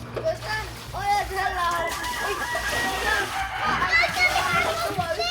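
Chickens cluck and crow nearby in repeated bursts, with overlapping voices of adults and children talking throughout.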